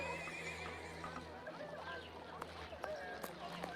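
A horse neighs in a video game, a faint whinny over low ambient hum with soft hoof clops and scattered clicks, while a voice talks quietly underneath.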